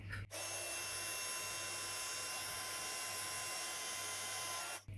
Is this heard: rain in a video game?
no